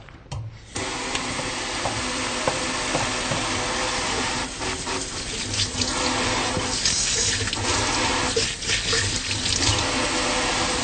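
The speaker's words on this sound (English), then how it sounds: "I'm going to take a minute to wash my hands." Hands being washed at a sink under a running tap before a neurological examination, a steady, loud rush of water starting abruptly, with splashing and shifting flow as the hands move under the stream.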